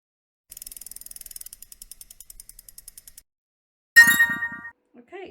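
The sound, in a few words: dice rolling for a board game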